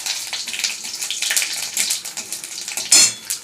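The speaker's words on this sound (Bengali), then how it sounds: "এই যে তেজপাতা, এগুলো ফোড়নে দিয়ে দেবো। একটু নাড়াচাড়া করবো।" Bay leaves sizzle in hot tempering oil while a utensil stirs and scrapes the pan, a steady close crackle broken by metallic clinks and one louder scrape.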